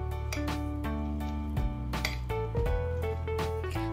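Crab stick salad being stirred with mayonnaise in a bowl, a spoon repeatedly scraping and clinking against the dish in uneven strokes, while steady background music plays throughout.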